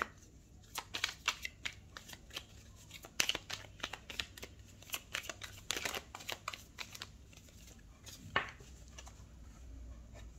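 Tarot cards being shuffled and drawn for a reading, a run of quick crisp riffling bursts and slaps at irregular intervals, close up over a quiet room with no talking.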